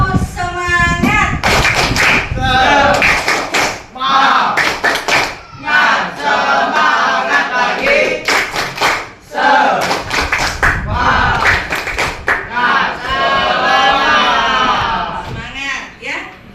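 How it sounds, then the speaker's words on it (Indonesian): A school class clapping in unison to a rhythmic spirit-clap routine, with shouted chanting mixed in, loud and close, in repeated bursts. "Tentunya kita tepuk semangat dulu untuk menyemangati kita dalam belajar."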